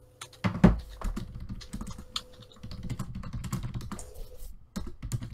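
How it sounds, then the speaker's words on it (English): Rapid, steady computer keyboard typing carries through a Dota 2 voice chat, a dense run of clicky keystrokes continuing across the whole stretch with no speech over it. "Could I not constantly hear typing?"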